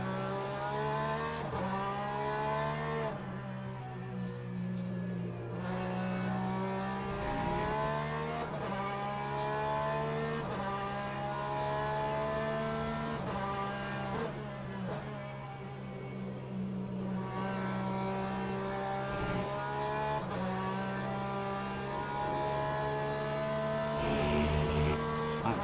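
A race car engine in the sim racing game Le Mans Ultimate at Spa drones steadily, repeatedly rising in pitch through the gears and dropping on upshifts, with faint tire squeal, heard close and alone throughout.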